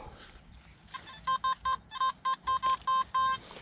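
Metal detector sweeping a playground, giving a run of about ten short, clear electronic beeps in an uneven rhythm, each a steady pitched tone standing out over faint background noise.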